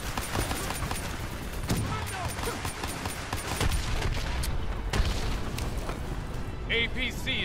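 Dense gunfire and booming blasts aimed at a VTOL in Call of Duty: Black Ops 3 roll on continuously in a chaotic battle, with voices talking over the barrage.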